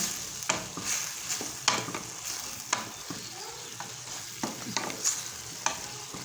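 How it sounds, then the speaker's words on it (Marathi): Ghol bhaji, a finely chopped wild leafy vegetable, cooks in a pan with a faint sizzle broken by repeated sharp scraping and stirring clicks from a spatula, and no voices. "पहा किती मस्तपैकी आपली भाजी शिजत आहे"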